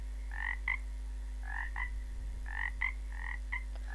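A frog croaks repeatedly in short paired bursts, a clear rhythmic pattern over a low steady hum.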